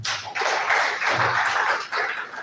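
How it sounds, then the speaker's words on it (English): An audience applauding at an international electrical engineering conference, a dense burst of clapping that dips briefly and then picks back up, fairly loud and close. "Please, a round of applause."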